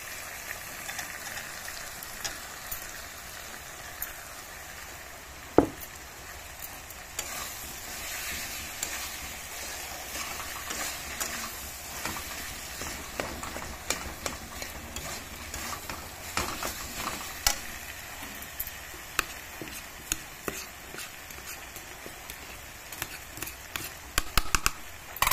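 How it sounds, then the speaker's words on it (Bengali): Boiled potato being fried and stirred in a pan, a steady sizzle with scraping and stirring clatter, close and continuous, one sharp knock partway through. "একটু ভাজা ভাজা হয়ে গেলে এখন আমি আলু সিদ্ধটা দিয়ে দিব।"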